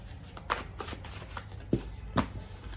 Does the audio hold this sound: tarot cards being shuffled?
yes